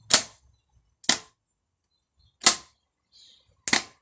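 A vehicle starter motor fed 12 volts directly throws sparks, producing four sharp isolated cracks spaced about a second apart, each a brief loud snap with silence between.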